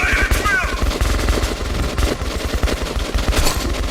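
Rapid automatic gunfire from the video game Metro 2033, with dense, loud bursts of shots firing in quick succession throughout, the rattling fire staying close and continuous.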